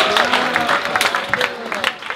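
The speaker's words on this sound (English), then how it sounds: "Let's give a round of applause for Kayla." A school assembly audience applauds, a dense burst of clapping from a crowd that fills the room and holds steady for a couple of seconds.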